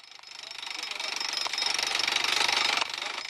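Gasoline-powered rock drills bite into the mountain rock of a high-altitude aquamarine mine, a loud continuous rattling hammer that builds in intensity and carries on without pause.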